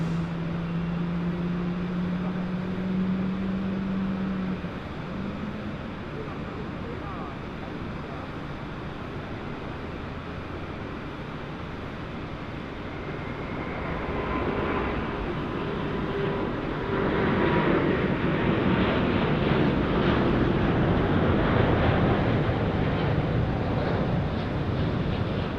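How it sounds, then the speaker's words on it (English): A Singapore Airlines jet spools up its second engine across the airfield at night, a distant, steady turbine whine and roar that builds gradually under wind and outdoor background noise. "It is the Singapore Airlines over the other side of the field, starting up that second engine."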